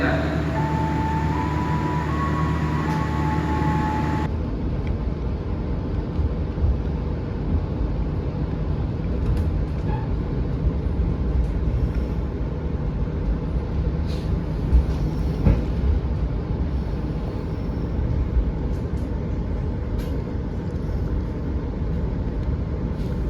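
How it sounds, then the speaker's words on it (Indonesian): A Jayakarta passenger train pulls out of Solo Balapan station, giving a steady, loud rolling rumble with faint clanks and squeals, preceded by a brief tonal chime or announcement tone at the start. "kereta api Jayakarta diberangkatkan"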